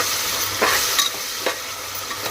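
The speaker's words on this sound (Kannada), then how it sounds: "ಉಳ್ಳಾಗಡ್ಡಿ ಬ್ರೌನ್ ಕಲರ್ ಬರೋವರೆಗೂ ಫ್ರೈ ಮಾಡ್ಕೊಳ್ಳ್ರಿ" Onions and garlic paste sizzle steadily in a hot pan, with a few soft scraping strokes of stirring rising above the constant frying hiss; no voices.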